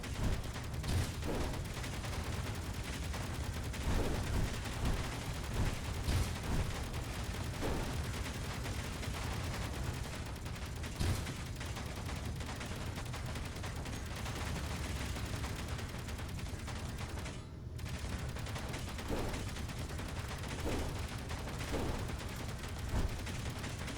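Automated turrets in the game Space Engineers fire continuously in rapid bursts, a dense, steady stream of shots with sharper cracks popping out here and there, loud and close throughout and briefly dropping out near the end.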